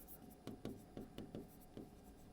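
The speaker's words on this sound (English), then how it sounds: "Let me write down the concept." Pen or marker writing notes during a math lecture, a handful of short scratchy strokes spaced unevenly over a quiet room background, close and moderately soft.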